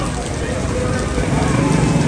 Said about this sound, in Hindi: साल की पहली बारिश हमें मिल ही गई आखिरकार